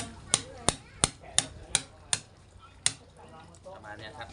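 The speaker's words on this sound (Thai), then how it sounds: "แล้วก็จับแล้วก็ตอกลงไปสันิดนึงให้ปากมันแค่อ้า" A tool knocks against a fresh shellfish to make its shell gape open, seven sharp, close taps in a fairly regular rhythm, followed by quieter handling noise.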